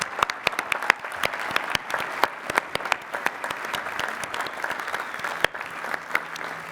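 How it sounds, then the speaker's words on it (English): Hearty applause from a commencement crowd at Lehigh University's spring ceremony honoring bachelor's degree candidates, dense steady clapping with sharper individual claps popping out, sustained for several seconds before tapering slightly. "Please recognize our bachelor's candidates with a hearty round of applause."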